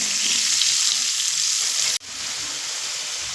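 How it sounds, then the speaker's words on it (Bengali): Potato pieces fry in oil over a medium flame, giving a loud, steady sizzle that breaks off abruptly for an instant near the two-second mark and then resumes slightly quieter. "আলুগুলো ভেজে নেব একটু মিডিয়াম ফ্লেমে আলুগুলো ভাজবো"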